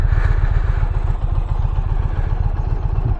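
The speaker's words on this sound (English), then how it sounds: "Just so you can get a taste of how good this bike sounds." An Indian Challenger motorcycle with stock exhaust idles close by, a loud, deep, steady rhythmic thump of the engine running without a break and no talking.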